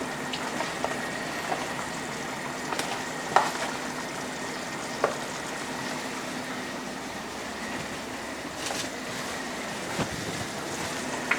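Cream being stirred into a shrimp scampi sauce in a pan, a soft steady sizzle with occasional light utensil scrapes and taps against the pan, close and continuous.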